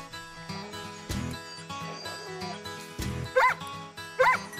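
Boomer, the dog from the Far Cry 5 trailer, lets out two short barks near the end, over dense orchestral music and low rumbling effects.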